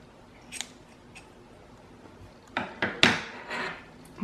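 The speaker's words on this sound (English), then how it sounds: "And I'm gonna cut my yarn" Scissors snip through yarn during crochet work, several short sharp cuts close by, clustered near the end, with nobody speaking.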